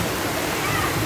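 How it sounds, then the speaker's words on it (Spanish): Muddy rainwater from heavy village rain cascades down a dug ditch, a steady close roar of rushing, splashing water that continues without a break. "pura cascada de chocolate."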